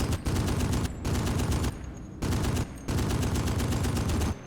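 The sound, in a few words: gunfire from a gun in a WWII beach invasion video game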